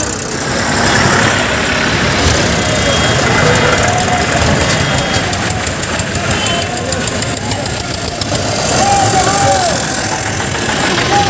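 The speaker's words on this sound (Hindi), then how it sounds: "हर तरफ ट्रैक्टर ही ट्रैक्टर" Tractor engines drone and knock loudly at a crowded farmers' tractor rally, a dense steady roar of many idling and rolling machines up close, with crowd noise and voices mixed in.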